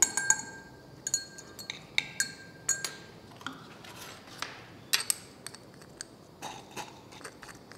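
Glassware clinks repeatedly as ferric chloride is stirred into a potassium hydroxide solution, with sharp, bright taps from a rod striking the glass in an irregular, steady rhythm, close up and fairly quiet, with no speech over them.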